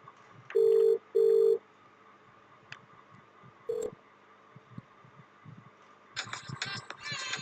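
An incoming call through a 3CX phone system brings two short electronic ring tones near the start, then a single brief tone, then a burst of busier noise at the end, set against a quiet background with no one talking.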